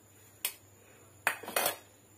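A pestle pounds anchovies and onion in a mortar for Malaysian sambal nasi lemak, a single knock followed by a quick cluster of three hard, clattering thuds close by, with no speech.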